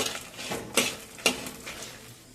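Coriander seeds fry in a pan for Andhra gongura pachadi, a soft sizzle broken by two sharp scrapes of a spoon stirring against the metal.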